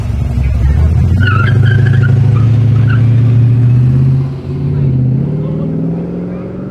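Restored orange 1934 Chevy three-window coupe launching at a hill climb, a loud, close engine roar holding steady then fading as it pulls away, with a voice talking over it.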